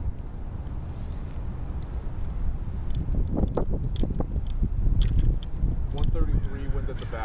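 Wind gusting across a golf course, a constant low rumble and buffeting against the microphone, with golfers talking over it.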